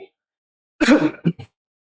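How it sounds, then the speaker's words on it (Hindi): A single cough burst followed by two short throat-clearing coughs from a man lecturing, close and fairly loud, with silence around them. "सॉरी खांसी थोड़ी आ रही है, उसके लिए सॉरी।"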